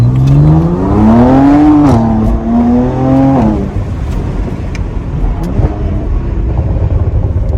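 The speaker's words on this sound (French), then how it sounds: "on a cette belle sonorité de l'échappement" A BMW Z4 306 hp sports car's exhaust roars loudly as the engine revs up and down, then settles into a deep steady rumble, close by.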